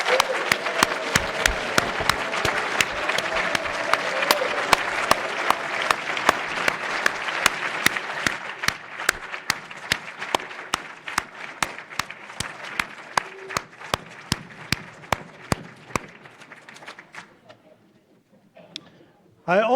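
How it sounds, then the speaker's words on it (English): A room of attendees at an induction ceremony applauds families and friends with loud sustained clapping that thins into scattered individual claps and fades out toward the end, with faint voices underneath. "let's give you a round of applause."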